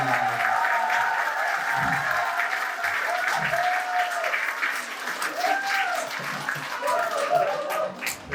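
An audience at a politician's special lecture breaks into sustained applause mixed with loud cheering and shouting voices, a dense crowd roar that swells and persists for the whole stretch.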